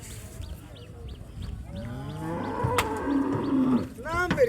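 Local and Australian bulls are unloaded from a truck at a cattle market, with several deep, drawn-out moos and lowing calls rising over crowd murmur and background voices, growing louder toward the end.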